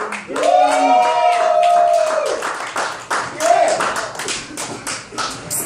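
A crowd claps rapidly while voices whoop and shout in excitement, the burst of cheering loud at first and then gradually thinning.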